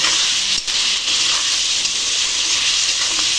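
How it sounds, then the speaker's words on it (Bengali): A tomato and green chili paste sizzles steadily while it is sautéed in a pan, giving a bright, continuous frying hiss with a brief dip near the start and no voices. "এবার আমি এটা এর সঙ্গে দিয়ে একটু ভালো করে কষে নিয়ে তারপরে আমি পরিমাণ মতন জল দিয়ে দেবো"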